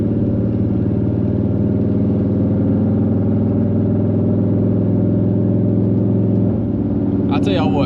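Engine of a Ford OBS truck, heard from inside the cab with windows up, held at about 2,500 RPM. It makes a loud, steady drone that barely changes, and a voice cuts in briefly at the end.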